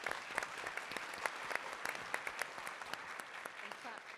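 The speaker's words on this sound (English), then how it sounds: "Yeah, I clapped really hard." A small audience claps after a medical presentation on temporary mechanical circulatory support, with a few sharp, distinct hand claps standing out over softer clapping, fairly faint and close.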